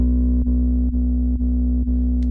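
A steady, sine-wave-like tone sampled from the Wii Sports video game hums loud and continuous, pulsing with a slight dip about every half second across the whole stretch.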